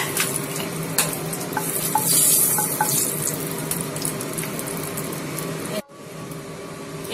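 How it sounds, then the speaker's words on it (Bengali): Whole garam masala spices crackling in hot oil in a wok right after fish was fried, a busy close sizzle with stirring scrapes that cuts off briefly near the end, then resumes more quietly, with no voices. "এবার এই কড়ার তেলেতে আমি একটু গোটা গরম মশলা ফোড়ন দিলাম"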